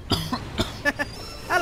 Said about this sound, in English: I just kept coughing.